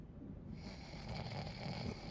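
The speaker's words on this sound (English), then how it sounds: "That's what snoring means" Snoring from a sleeping character in a Spider-Man: Miles Morales game cutscene: steady, nasal rumbling breaths at moderate volume, with no talk over them.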